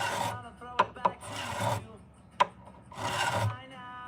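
A fret file rasping across a guitar fret while crowning it, in repeated back-and-forth strokes, with a few sharp clicks as the tool catches; close and fairly loud.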